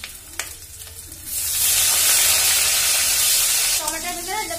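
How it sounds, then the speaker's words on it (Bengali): Tomatoes tipped into hot oil burst into a loud, sustained hiss that swells after a short quiet stretch of stirring clicks, then eases as a voice speaks near the end. "তারপরে দেবো টমেটো গুলো"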